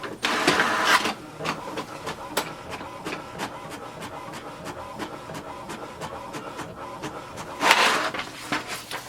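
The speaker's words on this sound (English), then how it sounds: "So it's taking the print inside." An HP Deskjet 3755 inkjet printer prints a page with a steady mechanical whir and a rapid train of sharp clicks and ticks as the carriage moves. It grows louder in two bursts near the start and end, with no talking.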